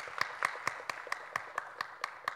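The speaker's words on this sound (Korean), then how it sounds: "박수 한번 쳐주시죠" A small group at a Bible study class claps in about ten sharp, evenly spaced beats, a slow rhythmic round of applause that is close and fairly loud.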